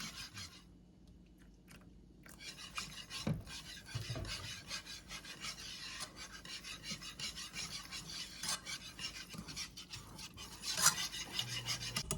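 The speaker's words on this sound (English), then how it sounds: "I'm using a gravy whisk to stir the gravy, and this does an awesome job" A gravy whisk scrapes and rasps steadily through milk gravy in a pan, a continuous close scraping texture with no talk.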